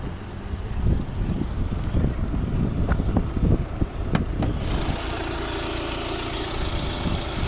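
A Volvo V60 2012 1.6 diesel engine idles steadily with a low, even rumble and occasional faint clicks, no voices present.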